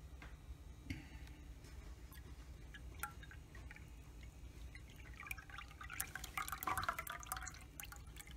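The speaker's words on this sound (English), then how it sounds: "So I'm going to pour my milk." Goat's milk poured for soap making, a quiet trickle and dripping of liquid into a container, faint at first and growing fuller toward the end.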